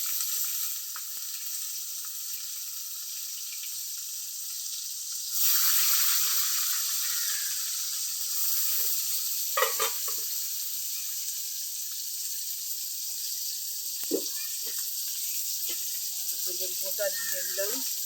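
Whole cut onions frying in oil, a bright continuous sizzle that surges louder as they are added, with scattered clinks and stirring and a voice speaking briefly toward the end.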